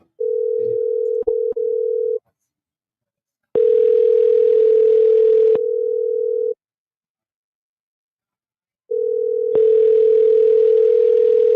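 A telephone line plays a steady ringback tone during an outgoing call, sounding in long bursts of about two to three seconds separated by silent gaps. A faint hiss rides on some bursts, and a few brief clicks come near the start.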